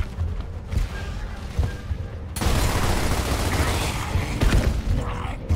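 Gears of War gunfire rattles in dense, continuous bursts, loud and close, swelling into a heavier barrage partway through, with muffled booms and mechanical clatter underneath.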